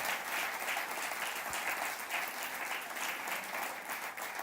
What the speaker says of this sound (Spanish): Dale un aplauso al Dios del cielo.